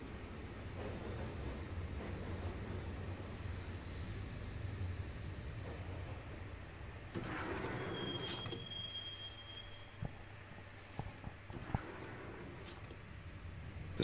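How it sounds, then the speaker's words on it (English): A train ride in the video game Max Payne brings a continuous rumble of wheels on rails with squeals and metallic clanks, moderately loud and steady, with no talking. "the train doors had already shut behind me, and I was in for the ride"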